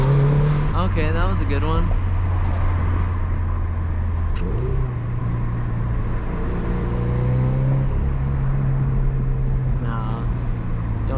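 A turbocharged Subaru Legacy accelerates out of eco mode. A loud, continuous engine drone rises and shifts in pitch beneath a person talking inside the car.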